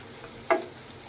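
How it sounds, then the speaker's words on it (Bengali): Dried chepa fish and jackfruit seeds fry in a pan with turmeric being stirred in, a low steady sizzle broken by one brief, close scrape of the spatula against the pan, with no talking. "আমি সামান্য একটু হলুদে গুঁড়া দিব দিয়ে নেড়েচেড়ে একটু মিক্স করে নিচ্ছি"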